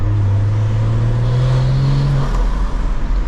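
BMW M240i with an aftermarket turbo elbow accelerating hard on an open road, a loud close engine drone rising steadily in pitch, then easing off toward the end, no talk.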